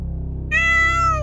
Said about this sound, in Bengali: একটা কালো বিড়াল আমার সামনে দিয়ে বেরিয়ে গেল।